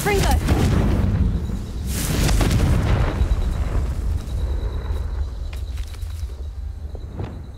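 Confringo blasting spell explosion in the Hogwarts Legacy video game, a loud deep boom with a rumbling tail fading over several seconds, with a voice calling out over it.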